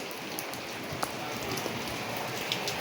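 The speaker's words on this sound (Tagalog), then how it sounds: "Umuulan." Steady rain pattering down outside a home on a hot, overcast day, a dense continuous hiss with scattered louder drops, heard alone with no voices.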